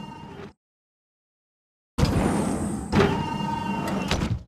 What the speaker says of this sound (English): I can open the door for you.